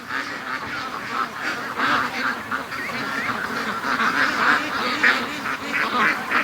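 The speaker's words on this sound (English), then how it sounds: "that's a goose right at the front leading them" Free-range ducks and a goose on a lake, a steady chorus of nasal quacks and honks repeating in close, overlapping bursts, fairly loud throughout.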